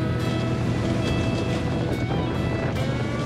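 An amphibious boat surging across a river, with loud rushing water, wave wash and wind buffeting the microphone, a dense steady roar throughout.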